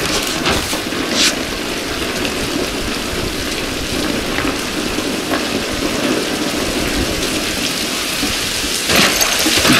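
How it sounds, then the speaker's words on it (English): Steady rain pours down in The Last of Us Part 1, a dense, even hiss of drops striking surfaces that carries on without a break, with a few brief louder splashes and no voices. "It's raining"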